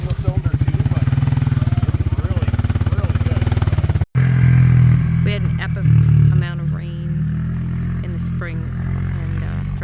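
A Can-Am Outlander 700 XMR ATV's single-cylinder engine thumps out a loud, rapid pulsing idle, then revs and roars after a brief cutout, with people talking over it.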